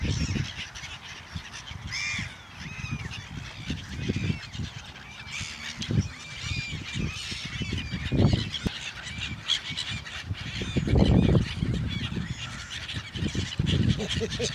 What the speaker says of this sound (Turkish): Senin kuşların, ördeklerin bak bak bu martıları görüyorsun.